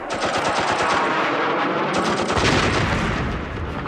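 A machine gun fires a loud, sustained burst at a Mirage jet during the Falklands War, its rapid rounds merging into a dense, continuous roar close by.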